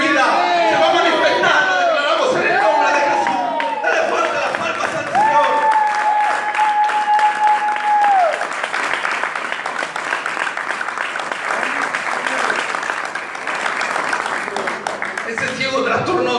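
A church congregation claps loudly for the Lord during a sermon, a dense wash of applause filling the space alongside shouting voices and a sustained sung or called tone.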